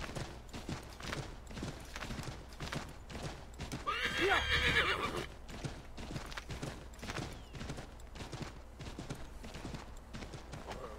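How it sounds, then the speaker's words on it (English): A horse in Assassin's Creed 3 gallops with rhythmic, evenly spaced hoof clip-clops throughout, and a loud whinny rises in the middle; steady game ambience sits underneath and no one talks. "Here we go, galloping."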